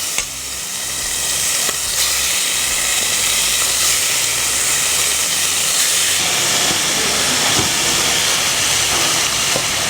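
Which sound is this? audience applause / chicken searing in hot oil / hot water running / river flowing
chicken searing in hot oil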